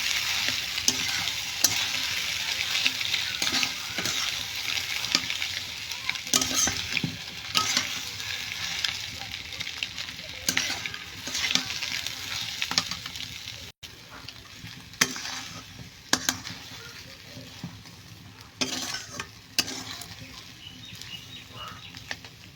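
An egg cutlet filling is stirred and fried in a pan, giving a steady sizzle broken by repeated scraping strokes of a spoon through the whole stretch.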